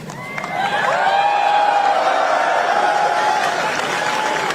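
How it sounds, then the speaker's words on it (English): An audience claps steadily at a political rally, the applause rising quickly and holding as a dense, continuous wash with crowd noise and cheering mixed in. "But you see everybody's clapping, and it's pretty motivational."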